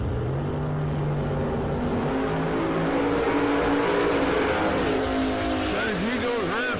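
A top dragster race car runs hard down the drag strip at a raceway, its engine roaring loudly and rising in pitch, while an announcer talks over it.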